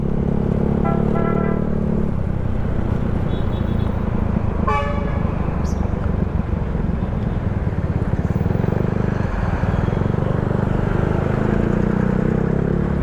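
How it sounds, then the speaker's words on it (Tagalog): Night traffic at the Balagtas roundabout intersection, vehicles bunching up and slowing: a steady loud rumble of engines throughout, with car horns tooting near the start and a brief sharp honk midway. "nag-iipon lang ang mga sasakyan dahil as usual, dahil nga mga intersection, kailangan magbagal, bawal mabilis"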